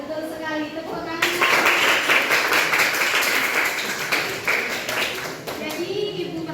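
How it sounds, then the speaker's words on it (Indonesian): Indonesian classroom students clap their hands together in a burst of close, fairly loud clapping lasting several seconds, with a teacher's voice heard before and after. "Betul sekali, tepuk tangan."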